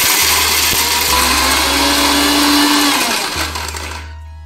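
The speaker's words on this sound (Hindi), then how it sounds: "इसके कैप को यहाँ बंद कर लेना है और ग्राइंडर की जार को ऑन कर लेना" A mixer grinder jar blends coconut, cardamom and raisins for a dry fruit milkshake, a loud steady whirring motor drone that runs for about four seconds and then cuts off and winds down.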